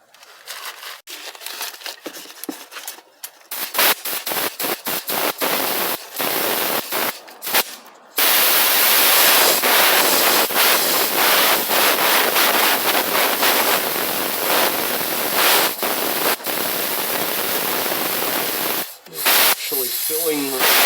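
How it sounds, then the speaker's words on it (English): Solvent forced through a transmission cooler line, a loud harsh spraying hiss that sputters in bursts at first, then runs as a long continuous rush before briefly cutting out near the end. "we're going to flush it out with solvent"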